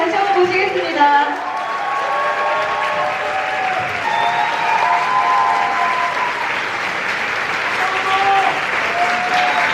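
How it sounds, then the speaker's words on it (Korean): Applause and cheering fill a hall at a Korea–Japan friendship rhythm concert before an encore. The clapping holds steady while a voice and sustained tones ring over it. "박수와 함성으로 다시 한번 보시겠습니다"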